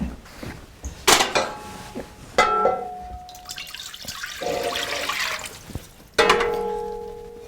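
A metal cooking pot set back down in a home kitchen during food prep: several sharp clanks at irregular moments, each followed by a short ringing tone, over a background of running or splashing water.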